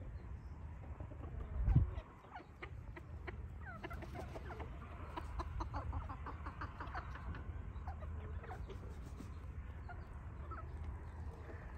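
Serama bantam chickens, hens and a rooster, cluck and murmur steadily through a soft outdoor ambience on a cold, rainy day, with a brief louder bump near the start.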